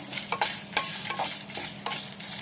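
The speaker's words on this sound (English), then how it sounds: "And then I will add frying the red chili. I'm going to roast it." Red chilies roasting in a pan, a steady, close sizzle with a handful of sharp stirring scrapes and clatters spread through it, no voices.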